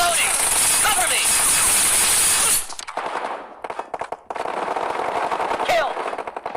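Rapid automatic gunfire in the mobile shooter PUBG Mobile, loud and close, with dense bursts that break into choppy volleys and bursts of single shots.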